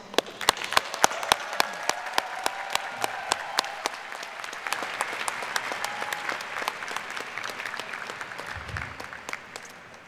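Audience at the 2017 Heinz College diploma and awards ceremony breaks into sustained applause, many hands clapping in a dense, even patter, with a few sharp individual claps standing out near the start.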